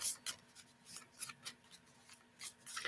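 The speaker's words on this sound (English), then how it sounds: "They're really hard to shuffle because they're shaped in the heart." Heart-shaped playing cards are shuffled by hand, giving soft, quiet papery rustles and flicks in uneven bursts, with no voices.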